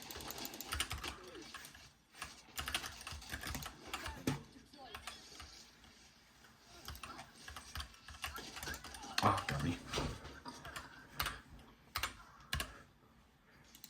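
Rapid, continuous typing on an optical-switch keyboard with clicky keystrokes in bursts, with a brief spoken remark partway through.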